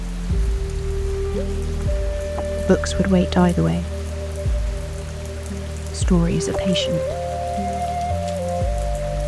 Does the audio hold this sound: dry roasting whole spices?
no